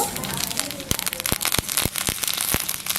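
Mustard seeds spluttering in hot oil in a home kitchen, a dense crackle of sharp, irregular pops bursting close by, several loud snaps standing out over a continuous hiss.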